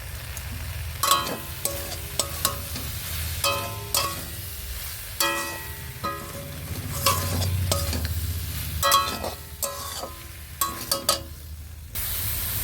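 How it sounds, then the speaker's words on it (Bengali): Turmeric being stirred into a jujube pickle in a pan, with repeated scraping strokes of a spoon against metal over a soft steady sizzle, about a dozen seconds with no talking. "হলুদ দিয়ে ভালো করে মিশিয়ে নিয়েছি"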